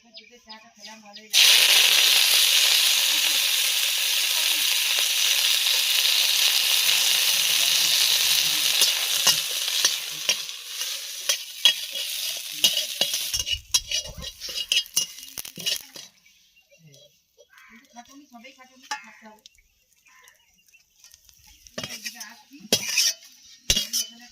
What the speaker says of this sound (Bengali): তেল গরম হয়ে গেছে, এবার আমি নিম পাতাগুলো দিয়ে দেব।